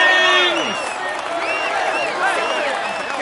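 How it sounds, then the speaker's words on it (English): A stadium crowd applauds and cheers a Tour de France green jersey rider, sustained dense clapping with whistles and shouts running steadily throughout at close range. "Come on, let's applaud him once more."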